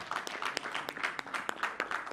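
Quiet audience applause for actress Fatou at a French-language television stars event, distinct individual claps in an uneven rhythm, fairly faint and thin, with no talking.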